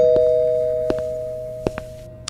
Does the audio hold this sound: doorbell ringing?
yes